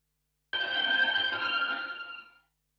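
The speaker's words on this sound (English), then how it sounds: "It's a kind of modulation plugin." Guitar run through a modulation plugin with LFOs, feedback and reverb rings out as one sustained, shimmering note that wavers and slowly fades over about two seconds, alone and fairly quiet.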